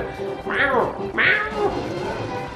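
Two drawn-out cat meows from the Super Mario 3D World video game, loud and close in quick succession, with people talking in the background.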